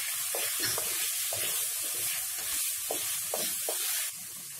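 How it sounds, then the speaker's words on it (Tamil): Steady sizzling of vegetables, including raw mango, frying in a pan for Chettinad palakaai mandi, with repeated scraping stirs throughout, close and fairly loud, no voices. "காய்கறி ஒரளவு வதங்கிடுச்சு"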